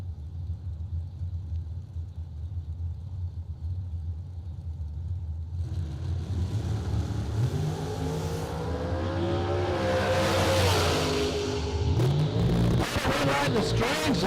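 Drag racing cars launch down the strip at a drag racing event, a low engine rumble swelling after a few seconds into a loud, rising roar that peaks near the end.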